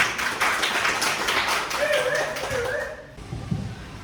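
An audience at a school seminar claps, a burst of quick, close hand claps that fades as a voice begins to speak.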